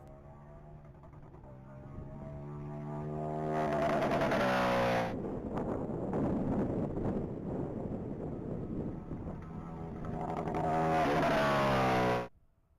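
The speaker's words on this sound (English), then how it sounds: "that 2009 Harley-Davidson Night Rod Specials going down the track" A 2009 Harley-Davidson Night Rod Special races down a mile-long top-speed track, its engine rising in pitch as it accelerates through the gears, growing loud as it nears, then cutting off abruptly at the end.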